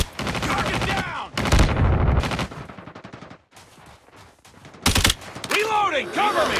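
Bursts of automatic gunfire from the mobile shooter Call of Duty Mobile Season 6, loud rattling volleys separated by short pauses, with in-game effects and callouts mixed in.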